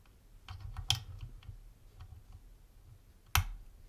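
Faint ticks and small clicks from a Compaq Illinois Duo high-security wafer lock being picked, with one sharper click near the start and another crisp click toward the end, over quiet background.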